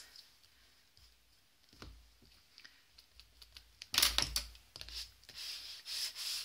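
Soft, close rubbing as wet glue is spread by hand over a keepsake book box, faint at first, then a louder stretch of brushing friction and scattered light taps.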